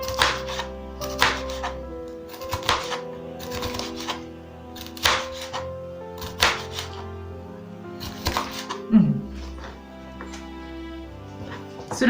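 A knife slices vegetables thinly into rings on a cutting board for a Marol salad, with quick bursts of crisp chops in rapid runs separated by short pauses, close and fairly loud with no talking.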